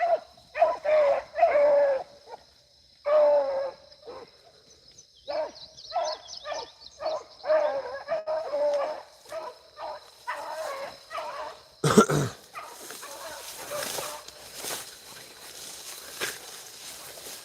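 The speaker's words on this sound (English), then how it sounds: "I really enjoy taking these young dogs and running them and, watch them progress into some good rabbit dogs" Young beagles running rabbits in thick brush give repeated close, loud barks and bays in irregular bursts, with a sharp rustling crash partway through and brushy movement afterward.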